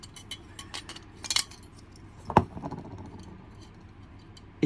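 A glass plate coming loose from a Protector miners lamp: a few light clinks and taps, with one sharper knock near the middle, close and quiet with no talking.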